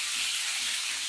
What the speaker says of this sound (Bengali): সর্ষের তেলের মধ্যে আমি আগে ডিমটাকে ভেজে তুলে রাখছি।